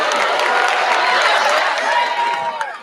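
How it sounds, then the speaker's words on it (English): A studio audience hooting, hollering and clapping together, a dense wash of cheers and applause at steady volume with whoops rising above the crowd, starting to thin out toward the end. "Notice the hyenas hooping and hollering and clapping in the background."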